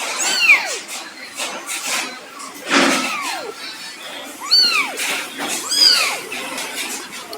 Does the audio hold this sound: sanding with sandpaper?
no